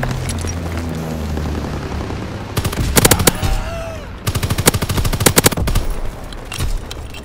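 Automatic weapons fire in a WW2 team deathmatch video game: a steady rumble breaks into two loud volleys of rapid machine-gun shots, with booming impacts between and after them.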